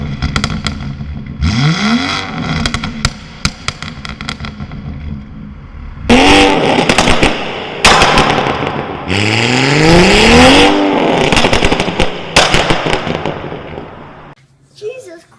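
A BMW M140i with a very loud exhaust revving hard inside a tunnel, with rising engine sweeps, sharp crackles and pops on the overrun and a booming echo, close and loud in repeated bursts.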